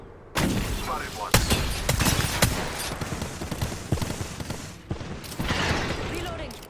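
Gunfire erupts in a video game firefight: sharp shots and bursts crack repeatedly, loud and close, alongside spoken voice lines.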